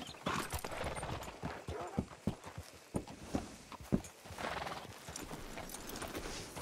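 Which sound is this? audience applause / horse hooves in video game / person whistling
horse hooves in video game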